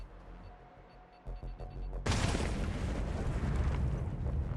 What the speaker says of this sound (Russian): Пошла жара, сразу взрываем сишечку.